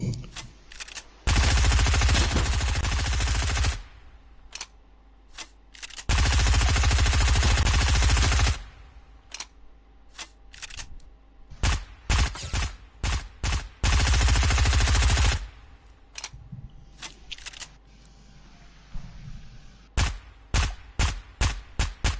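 SMG fire in Fortnite: long, loud sustained bursts of rapid shots alternate with gaps, then a scatter of sharp single shots and short clusters, close and dominant with no talk.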